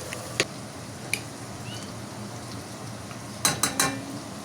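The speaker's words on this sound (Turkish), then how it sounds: "Şimdi salçasını atıyorum." Kitchen stovetop with a spoonful of tomato paste going into a pot of beans: sharp metal clinks of a spoon against the pot, including a quick cluster of taps near the end, over a faint steady background.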